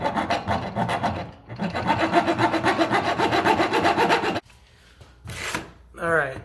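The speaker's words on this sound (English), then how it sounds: "just even it off with the file just in case it was a little bit uneven" Hand file rasping along the slide lugs of a Springfield Hellcat OSP pistol, a steady run of rapid back-and-forth strokes, then a pause and a few short separate strokes near the end.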